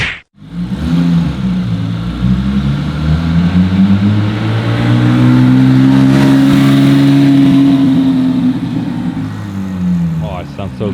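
A supercar on a Zurich street approaches and passes close by with a loud, rising then falling engine roar that swells and fades over about ten seconds, with voices in the background.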